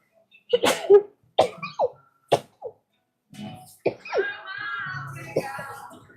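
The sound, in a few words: sneezing fit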